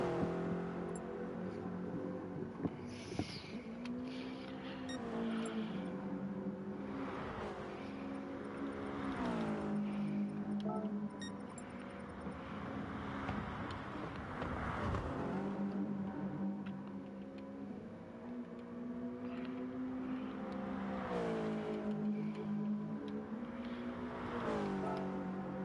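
Toyota GT86 race cars in a GT86 Cup event moving onto the track before a race, their engines droning and revving repeatedly at moderate distance, rising and falling in overlapping waves for the whole stretch.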